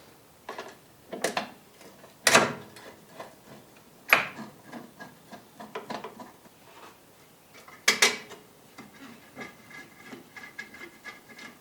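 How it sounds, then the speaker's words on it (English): Small metal screws being driven back into the painted headlight bezel of a Jeep Cherokee XJ, heard as a series of sharp clicks, taps and ratcheting ticks at close range with quiet gaps between them. "Reinstall the lower screws."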